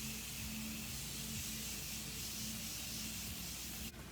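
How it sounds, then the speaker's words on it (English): A continuous fine hiss of Morphe Continuous Setting Mist spraying from close range, steady and even for several seconds before cutting off with a faint click. "I'm going to be using the Morphe Continuous Setting Mist. And just spray it all over."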